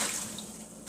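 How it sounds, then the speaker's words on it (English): Hot tap water pouring over dried corn husks in a container for fresh corn tamales, a brief, steady rushing splash heard up close. "I'm just going to add hot tap water to them"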